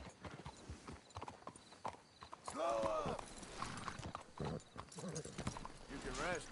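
Horse hooves clip-clop steadily in the Red Dead Redemption 2 video game, a moderately loud rhythmic trot with a horse whinny and voices talking over it at times.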